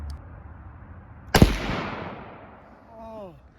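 One loud gunshot rings out during a shooting challenge at a campsite, a sharp crack followed by a long fading echo, with faint voices and birdsong after it.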